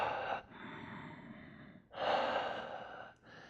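Deep breaths taken while holding the locust yoga pose: two long, close, airy breaths, each with a soft inhale and exhale, separated by short quiet gaps, with no speech.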